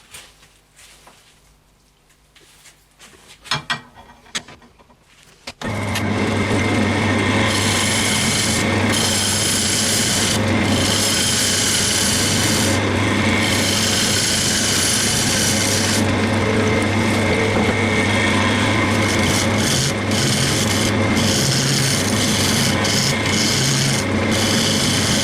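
After a few quiet seconds with small knocks, a loud continuous rasping of sanding on a wooden segmented bowl spinning on a lathe starts and runs steadily to the end.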